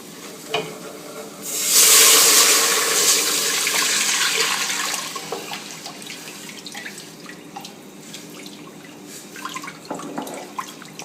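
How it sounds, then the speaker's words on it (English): Four cups of water pour in a strong rush that tapers off, followed by quieter sloshing and scraping clinks of stirring flour in a pot of mushroom soup. "Now let's add 4 cups of water and keep stirring."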